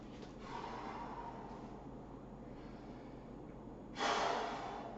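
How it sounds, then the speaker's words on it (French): Deep breathing during a joint-mobility exercise routine: a slow inhale drawn out over several seconds, then a louder, breathy exhale close to the microphone. "Respiration profonde toujours."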